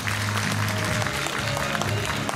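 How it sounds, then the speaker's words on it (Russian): Dense applause fills the hall at the start of a festive spring concert, sustained and fairly loud, with a busy crowd texture and faint tonal traces underneath, and no one speaking over it. "Ваши аплодисменты!"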